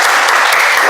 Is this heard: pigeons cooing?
no